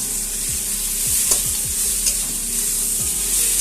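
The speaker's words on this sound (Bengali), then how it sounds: "নাড়াচাড়া করে নিলাম।" Grated radish and chopped coriander sizzle steadily in a hot pan as a spoon scrapes through them in several distinct stirring strokes, close and fairly loud.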